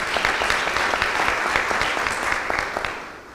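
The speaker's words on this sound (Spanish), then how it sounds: "Otro aplauso para el magistrado." Audience at a fundamental labor rights conference panel in Punta Cana applauding a magistrate, with steady, dense clapping throughout that slowly tapers toward the end, no voices over it.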